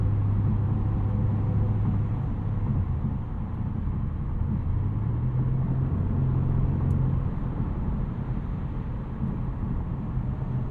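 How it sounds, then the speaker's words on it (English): Low, steady tire roar from Continental SportContact 7 tires on a 2025 Porsche Panamera GTS with a twin-turbo V8 fills the cabin during an evening commute, a constant rumble that stays even throughout with no talking. "some noise from these Continental Sport Contact 7s"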